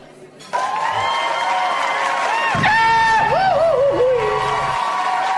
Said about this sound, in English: let's throw a big party now and applaud her.